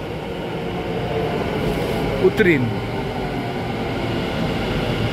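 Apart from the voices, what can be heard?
Ahmedabad metro train arriving at station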